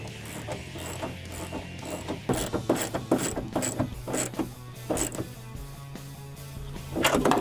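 A quarter-inch drive ratchet with a deep socket tightens the bolts of a rear spoiler on a 2015-2022 Mustang Fastback. Close, crisp bursts of rapid ratcheting clicks come in several short runs, with quieter pauses between them.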